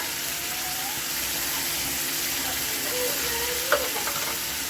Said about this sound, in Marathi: आता ही बघा टोमॅटोची प्युरी ओतून घ्यायची.